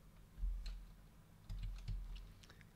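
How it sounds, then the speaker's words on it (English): Quiet keystrokes on a computer keyboard, a few scattered taps and clicks in two short bursts over faint room hum, close but soft, with no one speaking. "So we're gonna try typing in 27 here."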